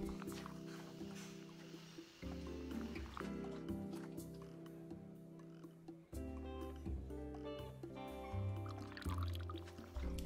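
Liquid pours into a cup in the repair game Assemble with Care, a trickling fill under steady musical tones, starting partway through and running several seconds at moderate level.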